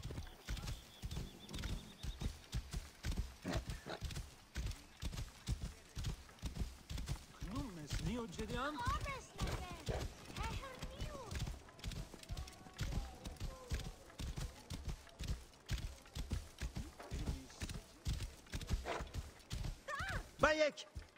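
Rhythmic hoofbeats clatter steadily throughout as a horse trots in the video game Assassin's Creed Origins, with occasional neighs and a voice talking over the galloping.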